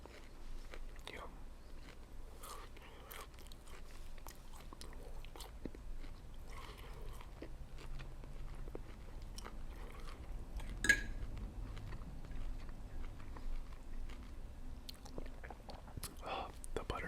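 Someone eats grilled jerk shrimp and steak up close, with soft wet chewing, occasional bites and light clinks of cutlery on a plate, and quiet whispering in places.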